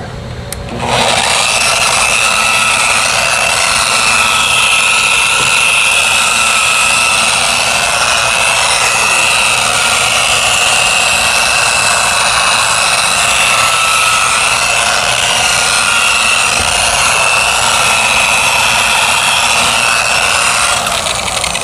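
A power buffer polishing tractor paint drones continuously at a steady pitch, loud and close, with a faint rubbing texture throughout and no pauses.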